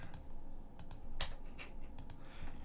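Computer keyboard keys tapped in short, irregular clicks and clacks while editing an Excel spreadsheet, close and fairly quiet, with a few sharper keystrokes standing out.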